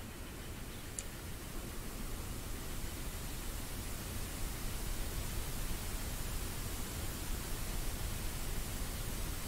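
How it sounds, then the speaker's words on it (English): Steady, even white noise for sleeping, a constant soft hiss that stays level throughout without any voices. "Yeah, white noise."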